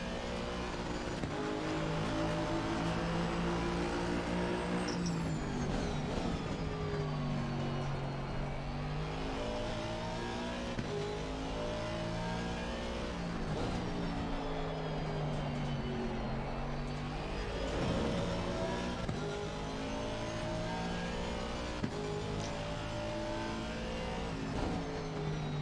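Race car engine in Assetto Corsa Competizione howling steadily through a lap, its pitch climbing and falling with each gear change and corner, loud and continuous with no talk over it.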